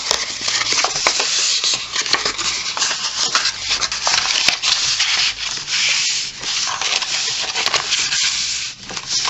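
Paper folded by hand for an album cover: continuous dry rubbing and scraping as creases are pressed down, with occasional crisp taps, close up and fairly quiet.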